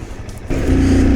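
A motorbike engine rumbles close by on a rural road in Nepal, growling louder as it picks up revs after a brief quieter moment, with no speech.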